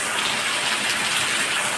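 Heavy rain pours down in a steady, loud hiss and roar as water runs across a yard, with no voices.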